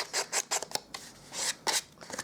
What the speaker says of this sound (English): What I might do around the edges is just do a little bit more sanding